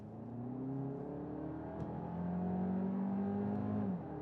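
Audi Q3 2026 with the 2-liter TFSI 265-horsepower engine accelerating hard from about 30 to 50 mph, a steady rising hum and drone heard from inside the cabin, briefly dipping at a gear change before climbing again.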